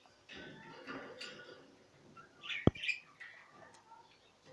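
A young jumbo budgerigar gives soft, scattered chirps and squeaky twitters, faint and close, with one sharp click in the middle of the sounds.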